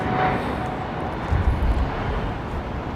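A Boeing 777 airliner at London Heathrow Airport gives a distant, broad jet roar that swells slightly midway and stays steady throughout.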